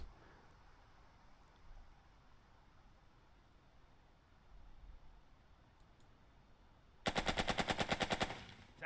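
Gunfire in the tactical game Burden of Command during a Casablanca mission: after a long quiet stretch, a loud, rapid machine-gun burst of about a dozen evenly spaced shots lasting just over a second.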